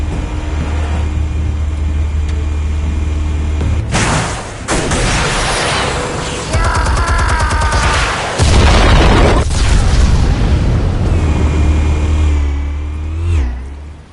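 Armed explosives in a Batman game go off in a chain of loud booming blasts, with heavy engine-like roars and bursts between them, ending in a rumbling tail.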